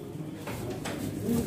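Pigeons coo softly at a pigeon auction, a brief low burbling call under a background murmur, close and short.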